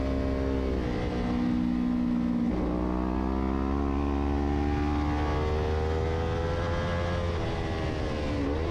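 Engine of a racing motorcycle in a Formula 3 novice road race, a steady high revving whine that rises and falls smoothly through gear changes, loud and continuous throughout.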